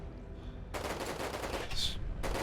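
Rapid cannon fire from units in the strategy game ERA ONE, a dense burst of repeated shots starting partway in and continuing loudly with a short gap near the end.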